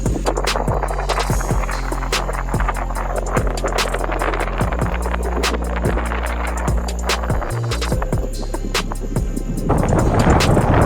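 Strong gusting wind from Hurricane Milton in Florida roars into the microphone in a loud, continuous buffeting, with rattling and knocking throughout and no voices.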